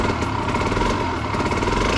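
A thirty-year-old Yamaha TZR50R two-stroke motorcycle idles low and steady up close, a continuous buzzing engine drone with no voices.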